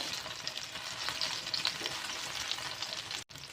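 Small onions fry in hot oil for a jaggery-sweetened chutney, a soft continuous sizzle with occasional crackles and a stir, fairly quiet and close.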